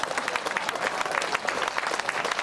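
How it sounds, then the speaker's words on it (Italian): Comedy show audience in Italy clapping hard and cheering, a dense continuous wash of applause with shouts mixed in, close and loud throughout. "Però applauso e urlo, vai, molto, tutti con le mani."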